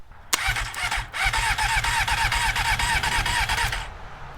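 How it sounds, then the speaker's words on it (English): A Honda CBR 600 motorcycle being cranked through a bypassed starter relay: a loud, close, rapid whirring starter churn that begins with a sharp click, pauses briefly, then cranks continuously for about three seconds without firing. "connect those 2 screws, and that should theoretically turn the bike over"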